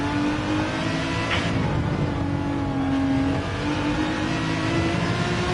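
A race car in Gran Turismo 7 at Spa-Francorchamps pulls hard in first gear, its engine a steady sustained drone with a rising tonal whine, continuous and fairly close, no voices.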